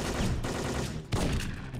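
Dense video-game gunfire in bursts, loud and continuous with a brief gap midway, filling the clip with no talking.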